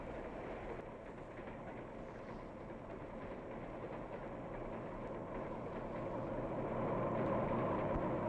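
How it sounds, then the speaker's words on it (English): A steam-hauled passenger train rolls through a deep cut in a hillside, giving a steady, close rumble of wheels and engine that swells louder toward the end. "Soon, the train is going through a deep cut, made in a hillside"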